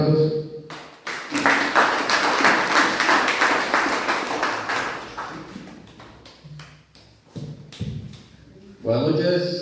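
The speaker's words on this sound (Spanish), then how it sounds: "Dale un fuerte aplauso." Applause from an indoor evening audience at a church couple's testimony gathering, a dense burst of clapping that swells for several seconds then thins to scattered claps, with voices speaking before and after.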